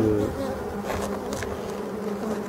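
Black honeybees buzzing at the hive entrance, a dense close drone of many wings with individual bees passing near, continuous and fairly loud.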